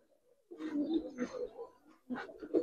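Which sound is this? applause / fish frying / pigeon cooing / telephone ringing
pigeon cooing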